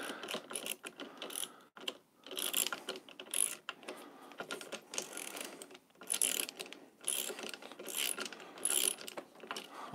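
A ratchet wrench tightens a bolt on a BMW R1250GSA motorcycle, giving bursts of close, rapid pawl clicks with short pauses between strokes, steady and alone throughout.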